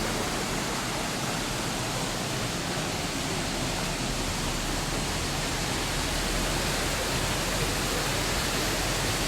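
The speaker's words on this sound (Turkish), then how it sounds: "Sizi biraz şelaleyle baş başa bırakacağım" Waterfall in Ayazma nature park near Bayramiç, a steady, dense roar of falling water that fills the whole clip at constant loudness, close by and with no voices.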